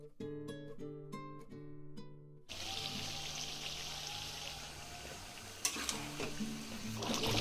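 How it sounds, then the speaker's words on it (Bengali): Water pours into a pot of duck curry with potatoes, a broad steady wash of liquid and sizzle that starts abruptly after a few quiet seconds of light tapping, with a couple of sharp clinks near the end. "আমি জলটা অ্যাড করে দিয়েছি"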